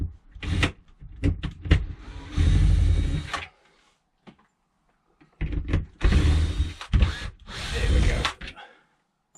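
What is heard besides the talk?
power drill removing screws from motorhome rooflight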